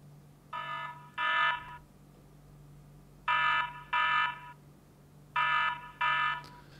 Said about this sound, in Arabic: لو حد يعني فكر ان هو يشيل الجهاز من مكانه او يفكه من مكانه فيدي انذار زي كده